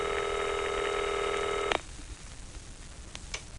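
A cartoon White House hotline telephone sounds a steady electronic ring tone that cuts off abruptly, followed by a quiet pause with faint clicks.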